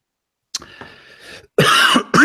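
A brief throaty rasp is followed by two harsh, loud coughs in quick succession, close up, from someone with a cold.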